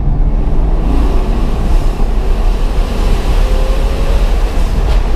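Ferrari F12 Berlinetta with an iPE exhaust system pulling in third gear with the exhaust valve closed: a steady, loud, dense engine rumble mixed with wind noise, unbroken throughout with no talking.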